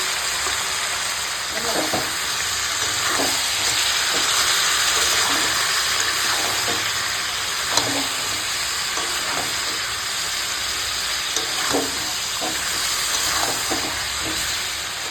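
Ginger-garlic paste, turmeric, chili powder and salt frying in oil for mutton, a loud continuous sizzle and hiss with steady scraping stirs of a spoon in the pan, and a high whine running beneath.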